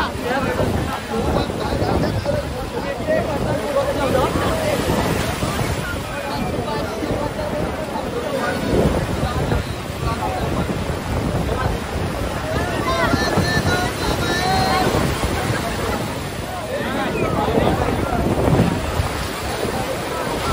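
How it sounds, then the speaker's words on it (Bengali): Monsoon sea waves rolling and crashing at Puri beach, a continuous loud roar with heavy wind buffeting the microphone and faint talk underneath. "চলুন পুরী সমুদ্রের ঢেউটা একবার আপনাদের দেখাই।"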